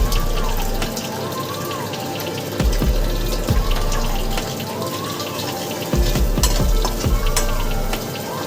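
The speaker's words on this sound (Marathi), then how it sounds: "स्मोकी फ्लेवर येण्यासाठी मी 1 चमचा बटर टाकलेला आहे. आणि तेही आपल्याला अर्धा सेकंदासाठी परतवायचे आहे." Butter sizzles in a hot pan while fried rice is cooked, a loud steady frying hiss broken by repeated scraping and stirring strokes of a utensil against the pan.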